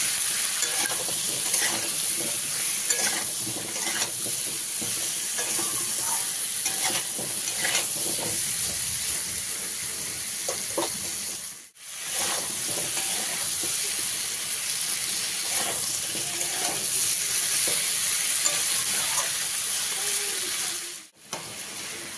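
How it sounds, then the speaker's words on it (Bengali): Turmeric, potato and pumpkin fry in a pan for a silver carp sour curry with amchur, making a loud, steady hiss and sizzle, close and continuous, with two brief gaps. No one speaks. "দেড় চামচ হলুদ দিলাম, দিয়ে ভালো করে ভেজে নেব।"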